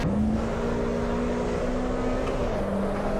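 A race car engine from the Assetto Corsa Evo racing game at Brands Hatch circuit holds a steady, high-revving whine that shifts pitch slightly as it runs, moderately loud with no talk over it.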